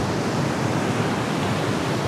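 Broadband surf on a beach in Thailand, a steady wash of breaking waves rolling in without pause, fairly loud and close, with no voices over it.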